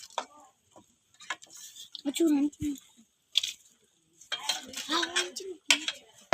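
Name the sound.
mixing chili and coriander leaves in a pan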